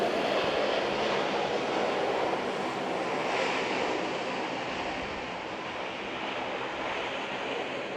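Jet engines of a Korean Air Boeing 777 departing Manila's Ninoy Aquino International Airport, a loud, steady broadband roar that holds throughout without interruption.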